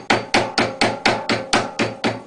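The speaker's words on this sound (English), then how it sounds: "Hammer form the other side over." Sheet metal held in a vise is hammer-formed into an airbox panel: nine sharp, evenly spaced metallic hammer blows, close and loud, each with a short ringing decay, with no speech.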